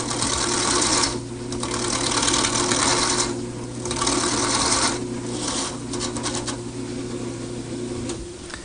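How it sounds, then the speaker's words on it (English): A parting tool cuts into a wooden cylinder spinning on a lathe, a loud continuous scraping hiss that pulses in repeated bursts over the steady hum of the motor. "Now I'm going to turn to this parting tool just to finish making the cylinder up to my score"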